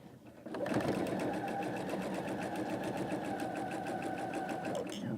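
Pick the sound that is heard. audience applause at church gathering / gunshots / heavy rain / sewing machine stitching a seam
sewing machine stitching a seam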